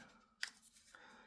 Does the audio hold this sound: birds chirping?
no